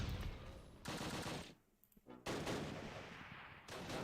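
Heavy gunfire and machine-gun bursts in the Close Combat war game at Arnhem, loud sustained volleys broken by a short lull before firing resumes.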